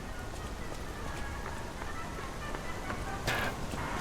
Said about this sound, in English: Rain is something that I've never enjoyed, and it's something I enjoy even less now.